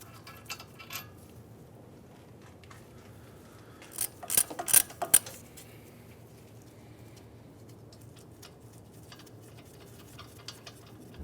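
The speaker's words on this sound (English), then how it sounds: "now we're just going to take these bolts right out" A socket ratchet backs out wheel hub bolts on a 2015-2019 Hyundai Sonata during a front bearing replacement, heard as a quiet cluster of rapid clicking pawl bursts near the middle, with faint ticks and handling noises around it.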